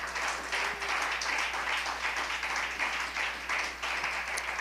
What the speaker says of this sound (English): clap your hand and give God a praise in this room